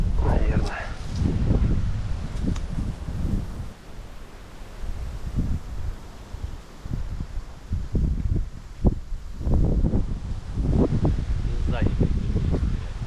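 Strong wind gusts buffet the microphone and rustle a hide during a wood pigeon hunt outdoors, a steady low roar with surging bursts under intermittent male speech.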